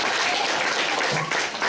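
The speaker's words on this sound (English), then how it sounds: "Round of applause for Mark." Audience applause at a close-up magic show featuring a coin box trick, a loud burst of clapping that stays strong and then starts tapering off near the end.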